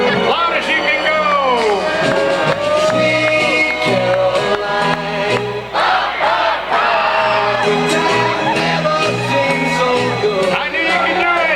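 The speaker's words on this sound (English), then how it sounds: "I want you guys to be so loud that they hear you all the way down in Ridgefield." Fans at a Victoria HarbourCats versus Ridgefield Raptors baseball game scream, whoop and cheer loudly and continuously, a dense roar of many voices including children, with organ-like music notes pulsing beneath throughout.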